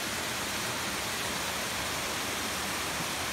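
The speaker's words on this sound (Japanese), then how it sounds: "御滝という滝みたいですね。" The Otaki waterfall roars as a dense, constant rush of falling water, loud and close, filling the whole sound with no talking.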